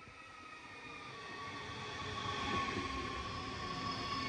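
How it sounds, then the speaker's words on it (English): A British military train pulls into Berlin Charlottenburg S-Bahn station, its wheels rumbling and squealing along the rails in a steady, slowly swelling roll heard at a moderate distance, with no voices. "Once the train arrives and is stationary, it's like the end of any other train journey around the world."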